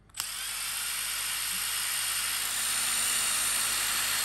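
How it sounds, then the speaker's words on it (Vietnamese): Makita TD136D cordless impact driver driving screws, starting abruptly and running as a loud, sustained high whirring drone at near-constant pitch for several seconds, heard alone. "Rồi, vặn vít."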